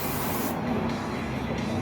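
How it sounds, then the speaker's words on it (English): A spray bottle hisses cleaner onto a carbon fiber board while bearings are being cleaned. The bursts are close and loud, a continuous spray with a couple of short breaks and no talking. "You can spray whatever you want on"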